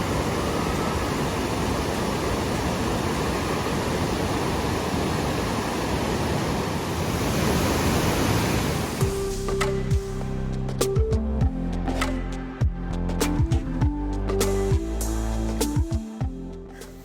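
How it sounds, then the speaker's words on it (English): A powerful waterfall roars as a dense, steady rush of falling water for about half the span, then gives way to quieter sounds with scattered clicks and tones. "We absolutely love this waterfall. It's so powerful and so refreshing."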